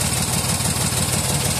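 A Toyota Wigo engine idles with a misfire, a steady close mechanical drone carrying an uneven low thumping pulse throughout, with no voices.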